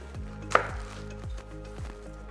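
A knife slices through a yellow onion on a cutting board, with one sharp crack as the blade splits it, followed by several soft, evenly spaced chopping taps, close and clear with no talk.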